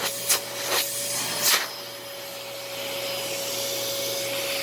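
Sanyo SC30 vacuum cleaner running steadily in a living room, a constant close whine with a few brief bumps and scuffs at the start as it moves over the floor.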